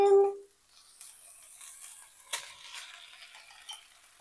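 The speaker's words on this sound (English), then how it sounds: "Basically pan frying that until the rice gets nice and crispy and the fish gets warmed up" Leftover fish with paprika and mixed herbs pan-frying with rice until crisp: a soft, steady sizzle with scattered clinks and scrapes of a utensil against the pan, after a short tonal beep at the start.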